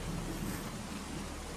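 Rain falls on a dreary day, a steady hiss of downpour with a low rumbling undertone, continuous and fairly close, with no talking.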